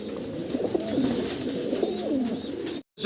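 Young high flyer pigeons coo continuously in low, rolling phrases close at hand, the murmur running on until a brief dropout near the end.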